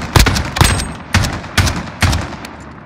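Automatic gunfire in Call of Duty: Modern Warfare, in a 2v2 match, with loud bursts of rapid shots at an uneven rhythm. The shots are close and punchy with a noisy tail.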